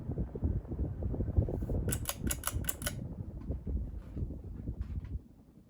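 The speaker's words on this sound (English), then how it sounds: "On high, the motor hum does mellow down quite a bit." A 1987 Gulf Coast Renaissance ceiling fan with gloss walnut blades runs on high, its motor giving a low, steady hum while a brief burst of rapid clicking rises over it partway through.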